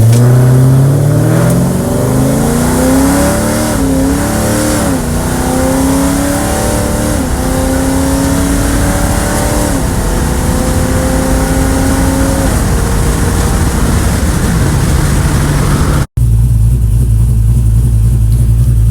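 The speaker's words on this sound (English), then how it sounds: "I did both a decently like 3/4 throttle run, and I did like a really light 1/4 throttle run to show you just how it shifts." A hot V turbocharged LS-engined car accelerates hard and loud close by, its engine note climbing and dropping as the transmission shifts up through the gears. The roar then cuts to a low, steady idle.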